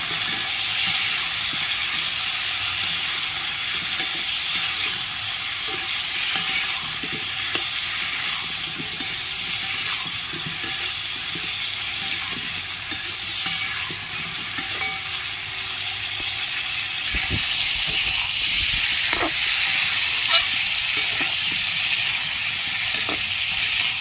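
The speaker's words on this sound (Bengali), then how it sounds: "এঁচড়গুলোকে লাল করে ভেজে নেব।" Green jackfruit pieces with turmeric and salt fry in a pan for jackfruit biryani, producing a loud, steady hiss that grows brighter near the end, with faint stirring knocks and no talk.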